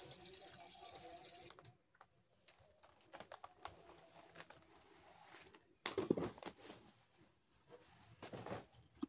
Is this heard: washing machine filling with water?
yes